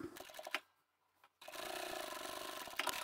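An electric sewing machine back stitches a quilted fabric bag with a fast, steady mechanical whir, cut off by a brief pause and then resuming at a close, even hum.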